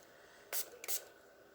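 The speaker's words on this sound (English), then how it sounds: "Let's give this a good spray." Aerosol spray can misting over resin coasters in two short hissing bursts, the second a little longer, close and fairly quiet against a soft background.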